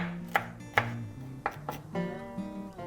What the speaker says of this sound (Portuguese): A gente tira as sementes dele e corta assim bem pequenininho.